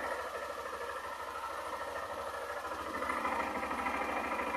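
A faint, misfiring 2008 Honda Fan 125 motorcycle engine idles steadily with a low, uneven putter, growing slightly louder toward the end; its battery is not charging.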